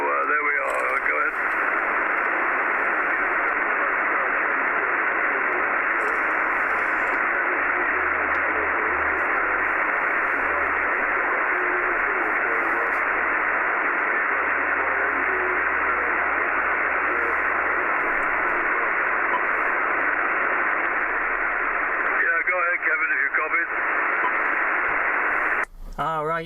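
HF amateur radio on the 80m/160m bands: a continuous band-limited hiss of static with faint, barely intelligible voice buried in the noise, steady for the full stretch before breaking off at the end.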